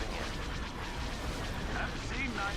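Continuous heavy starship cannon fire and explosions in a Star Wars Empire at War space battle, a dense rumbling barrage with game voice chatter over it.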